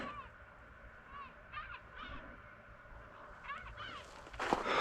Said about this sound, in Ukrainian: Чайки кричать.